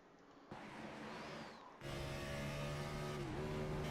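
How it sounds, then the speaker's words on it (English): A race car engine in Cyber Thunder Racing League at Talladega drones at high revs, then briefly stumbles, its pitch dipping before climbing again, like a missed gear shift. "he missed a shift. You heard it."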